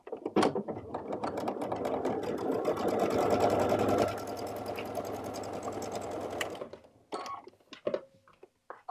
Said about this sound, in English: I'm going to go over to the machine. I'm going to stitch this down.